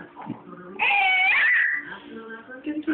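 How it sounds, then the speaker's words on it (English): A cat high on catnip meows loudly and drawn-out in the middle, with shorter chirpy mews around it, close and clear, with no one talking. "Cat high on catnip"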